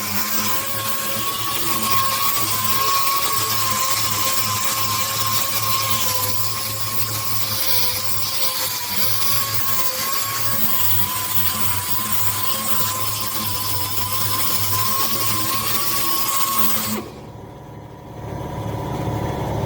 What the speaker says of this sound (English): There's Sasha hard at work doing some sanding.